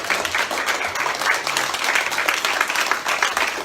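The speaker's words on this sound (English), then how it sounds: "give yourself a huge round of applause" Participants at a one-day online marketing masterclass clap in a brisk, steady round of applause that holds at an even, moderate level throughout.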